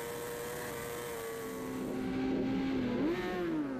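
A Superstock racing motorcycle at the Isle of Man TT on Bray Hill, a high whining engine note that sweeps down in pitch as it passes, loud and close, with gear changes near the end.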